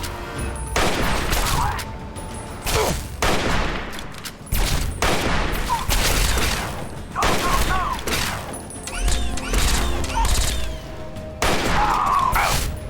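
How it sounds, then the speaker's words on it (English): Gunfire in the Fallout 3 video game sounds as repeated sharp volleys and bursts, separated by brief lulls, with some shouted voices woven through the shooting. "Keep firing! They bleed just like anything else!"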